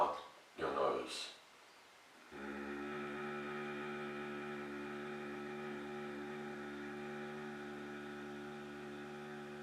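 After a couple of brief breathy noises, a low steady hum sets in and holds evenly for several seconds, soft and close.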